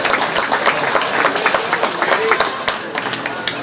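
A crowd claps steadily in a county fair show arena after a 4-H/FFA youth goat class, a dense, even round of applause with a few louder individual claps.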